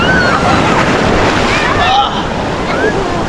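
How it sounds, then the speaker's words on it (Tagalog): Strong ocean surf breaking and washing on a beach, a loud continuous roar and slosh with wind buffeting the microphone throughout, no clear talk over it. "Malakas yung alon."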